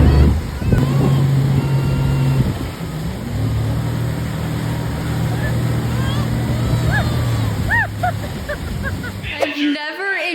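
Motorboat engine droning over water with wind buffeting the microphone, splashing and a few distant shouts near the end.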